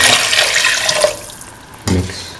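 Water pours into a cooking pan for mint tomato rice, a steady splashing rush that fades and then swells briefly again near the end, close and fairly loud with no talking.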